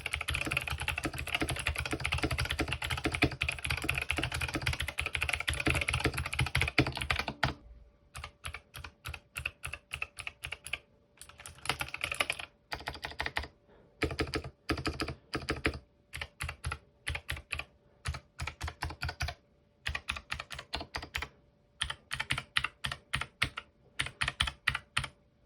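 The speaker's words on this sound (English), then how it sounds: "take a quick listen to how this keyboard sounds with the IV V2 switches" A Varmilo Forest Fairy mechanical keyboard fitted with clicky IV V2 switches is typed on, first in a fast continuous flurry of sharp clicks, then in short bursts of keystrokes separated by brief pauses, close and alone.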